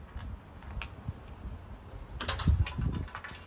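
Screws being removed from a Buffalo TeraStation network storage unit during a teardown: faint scattered ticks and small metallic clicks of a screwdriver, with a brighter clatter near the end, fairly quiet, no talk.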